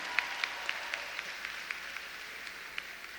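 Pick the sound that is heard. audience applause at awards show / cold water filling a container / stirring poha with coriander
audience applause at awards show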